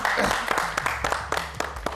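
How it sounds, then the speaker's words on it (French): A TV studio audience applauds on a French-language evening talk show, giving a fairly loud burst of clapping with a faint voice underneath that fades over two seconds. "Ça s'applaudit quand même"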